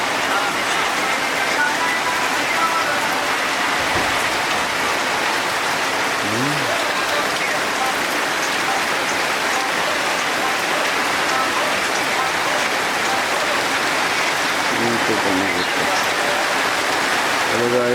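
Rain falls steadily and loudly in a dense, even hiss on surfaces outdoors, continuous throughout, with a few faint voices and brief tonal sounds in the background.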